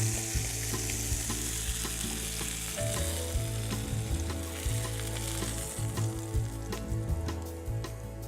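Duck pieces sizzle loudly and steadily in a hot pan just after being flipped, with a continuous frying hiss and occasional light scrapes, no voices.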